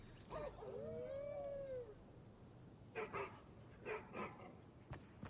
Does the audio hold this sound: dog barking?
yes